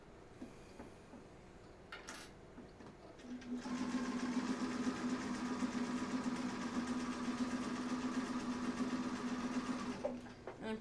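A sewing machine running with old thread and uneven stitch tension, starting after a few quiet seconds with a couple of clicks, then a steady close whirring hum with a fast rhythmic stitching patter for about seven seconds before stopping.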